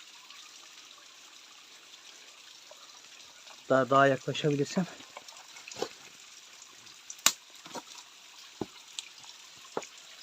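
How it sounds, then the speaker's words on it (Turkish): A small waterfall in a stream, a steady soft rush of falling water running the whole time, with someone talking briefly in the middle and a few sharp clicks and taps near the end. "Burada böyle bir şelale vardı. Küçük bir şelale."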